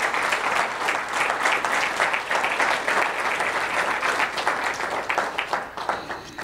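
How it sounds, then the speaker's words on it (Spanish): A church congregation gives strong, sustained applause, many hands clapping together loudly and continuously throughout, with faint voices mixed in. "¿Se anima a darle un fuerte aplauso al Señor en esta tarde?"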